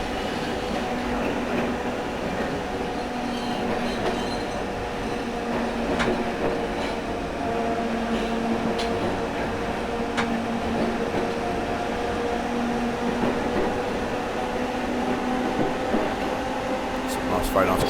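A veteran British Rail Class 313 electric multiple unit on the North London Line, simulated in OpenBVE, rolls steadily on the rails with a continuous rumble, motor tones and periodic clickety-clack from the rail joints.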